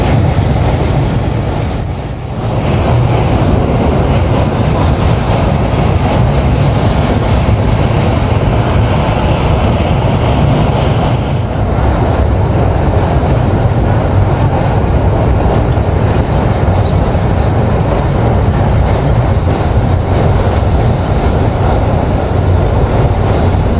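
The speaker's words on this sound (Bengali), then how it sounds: "হার্ডিঞ্জ ব্রিজের উপর আমাদের রূপসা এক্সপ্রেসের গতি কিন্তু খুবই কম।" Rupsha Express, an intercity train in Bangladesh, rolls slowly over the Hardinge Bridge, a loud steady rumble of wheels and carriages heard from on board, with rhythmic clatter over the rails and no pauses.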